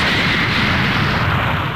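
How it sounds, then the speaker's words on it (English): Special Beam Cannon firing in a Dragon Ball game, a dense continuous blast with a booming, roaring rush that stays loud throughout. "Special beam cannon fire!"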